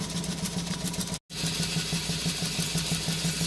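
A Stuart 4 model steam engine running under live steam makes a fast, continuous chuffing rumble with a steady pulsing beat, close and loud, broken by one brief dropout.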